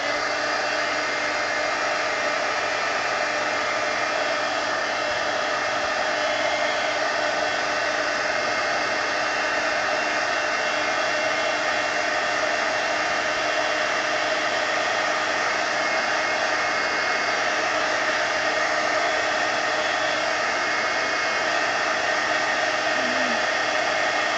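A hair dryer blows steadily for the whole stretch, drying watercolor paint on illustration board; a constant, loud broadband whoosh with no talk over it.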